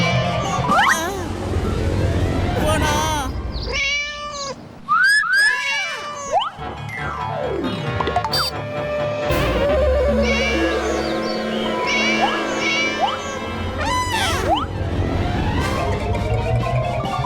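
Cartoon cats in Motu Patlu meow and yowl repeatedly over a busy mix of bouncy effects and music, with rising and falling cries that come close together.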